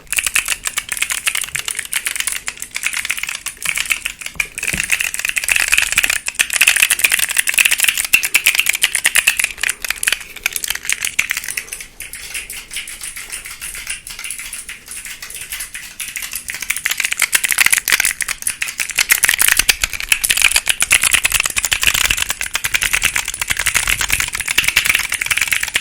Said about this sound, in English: This little 4-key keyboard fidget toy.